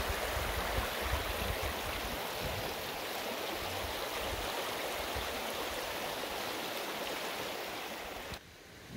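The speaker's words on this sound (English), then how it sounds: "Little creek flowing right there." A small creek at Swimming Woman Creek Campground in Montana flows steadily, with a dense, continuous broadband wash of running water close by that stays even throughout and drops off sharply just before the end.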